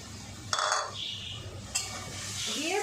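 Tomato, salt and turmeric being stirred in a hot pan for a chital fish curry: a soft sizzle with two brief spoon clinks against the metal, short and close.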